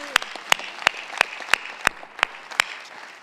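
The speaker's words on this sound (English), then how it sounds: "And I do think that deserves a round of applause." Sparse, evenly spaced claps ring out in a business meeting, about eight sharp hand claps over a few seconds, fairly close and moderately loud, as a small group applauds three men.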